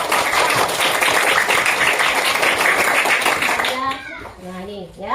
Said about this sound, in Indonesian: coba tepuk tangan lagi